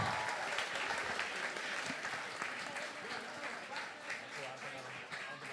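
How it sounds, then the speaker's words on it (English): An audience at the Jazz on Longfellow outdoor jazz event in the Bronx applauds the art director with steady, dense clapping from a nearby crowd, while a voice speaks over it. "Clap it up for Mr. Pimentel."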